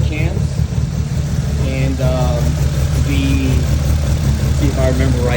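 A Toyota AE71 Corolla engine with Tomei 264 cams idles on a cold start with a lumpy, uneven low rumble, loping rhythmically while someone talks over it.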